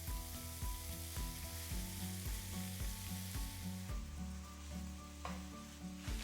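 Chorizo frying in oil for a huevos rancheros casserole, with a steady, loud sizzle and crackle running throughout beneath background music.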